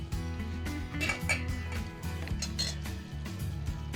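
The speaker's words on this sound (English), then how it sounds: "So now I'm gonna mix the meat in the pan." Cooked meat stirred into sauce in a pan for a meat-sauce rotini dish, steady scraping and clinking of a utensil against the pan, close and fairly loud with no talking.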